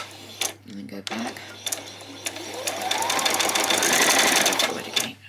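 A sewing machine stitches across the end of a fabric headband, starting with a few short taps, then running a longer continuous whirring stitch that builds in loudness before stopping.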